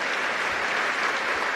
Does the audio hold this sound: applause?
yes